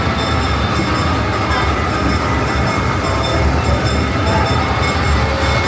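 A wooden roller coaster train at an amusement park rumbles and clatters continuously, loud and close, a dense steady roar of wheels on track with no pause.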